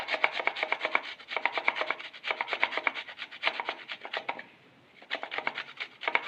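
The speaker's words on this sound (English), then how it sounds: "So let's grate our ginger." Fresh ginger root is grated in quick, regular rasping strokes, close and clear with no talk. The strokes pause briefly near the end, then resume.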